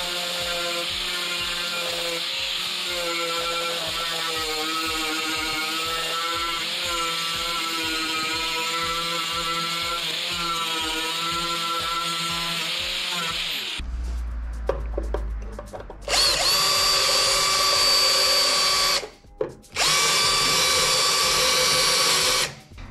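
A power tool whines steadily for about fourteen seconds, then harsher bursts of abrasive sanding hiss start and stop as old paint is sanded from a worn, engraved piece, loud and close with no speech.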